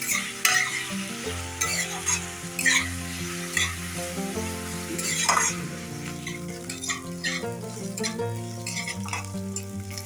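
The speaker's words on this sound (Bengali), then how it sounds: "পেঁয়াজটা তেলের মধ্যে দিয়ে দিয়েছি এবার পেঁয়াজটা একটু হালকা লাল লাল করে ভেজে নেব" Sliced onion fries in hot oil until lightly browned, a close sizzle with repeated spoon stirring and scraping against the pan, under background music, with no speech.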